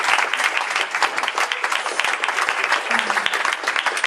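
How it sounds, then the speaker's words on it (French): A concert audience in Sansais applauds a woman singled out from the stage, dense ongoing clapping with a faint voice murmuring beneath, sustained and fairly loud throughout. "vous pouvez l'applaudir"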